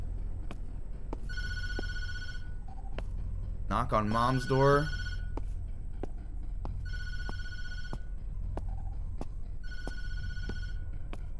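Telephone in the Tattletail video game rings repeatedly, three clear electronic trills spaced apart, with a brief spoken interjection between the first and second rings over a low background rumble and steady ticking.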